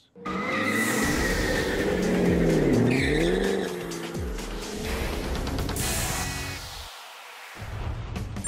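A 662-horsepower 2013 Ford Shelby GT500 Mustang accelerates hard, loud and close, with its engine note climbing through gears, tire squeal mixed in and a brief drop between shifts before it pulls again.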